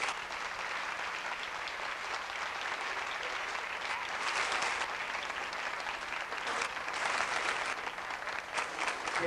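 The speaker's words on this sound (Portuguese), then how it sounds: "calorosa salva de palmas" Parents and families at a children's graduation ceremony give warm, continuous applause, a dense crackle of many hands that swells a little midway and holds steady throughout.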